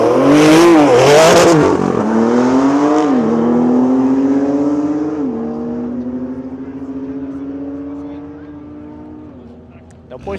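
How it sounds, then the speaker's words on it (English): A Porsche Turbo S on a private track day revs hard and launches, the engine climbing through rising gear pulls that fade into the distance, with a voice speaking over the opening rev. "You've got the insanely Porsche Turbo S out here about to launch and sound insane"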